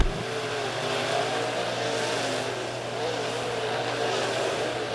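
Late model race cars roar off at the green flag on an oval track, a dense sustained engine drone with rising revs, loud and continuous, heard from the stands.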